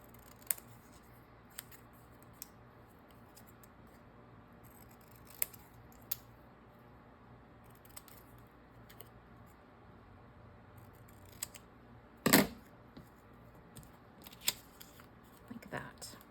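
Scissors snipping paper while a Valentine-themed journal is assembled, one sharp cut standing out amid scattered small clicks and paper handling, with quiet talk in the background.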